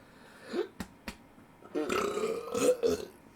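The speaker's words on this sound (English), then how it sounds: "That was a good burp." A loud, drawn-out burp rumbles for over a second, with a couple of sharp clicks and a shorter gurgle before it, close and alone without talk.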